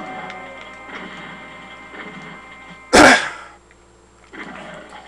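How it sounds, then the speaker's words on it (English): A short, loud throat clearing from a nearby man breaks a quiet stretch of steady Doom background noise during Xbox Live Arcade play, followed by a brief lull before the ambient sound returns. "I have to clear my throat every time I speak"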